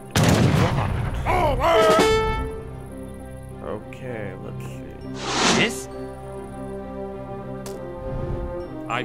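Bombard cannons fire in the Age of Empires III video game, with heavy booms bursting at the start and again midway over game music and spoken voices.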